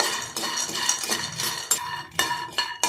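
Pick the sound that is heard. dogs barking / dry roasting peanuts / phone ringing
dry roasting peanuts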